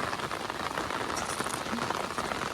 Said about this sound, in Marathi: पावसान जोरच केल्यान